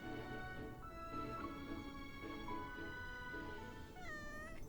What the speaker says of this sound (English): The cat hops onto his shoulder and rubs against him as though they're familiar with each other